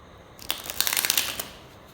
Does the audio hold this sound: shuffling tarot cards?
yes